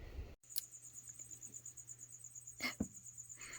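Crickets chirp inside a gecko enclosure, a faint steady high-pitched trill running through the quiet with a few soft knocks and rustles.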